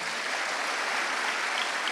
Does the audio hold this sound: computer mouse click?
no